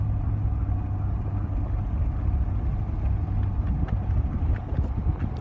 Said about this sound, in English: Jack, this is just Jack enjoying his truck ride.